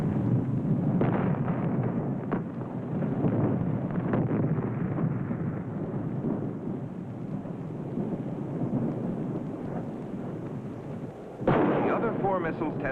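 Thor intermediate-range ballistic missile test launch failing in a spectacular way, a continuous loud roaring rumble sustained throughout, then a sudden sharper burst of noise near the end.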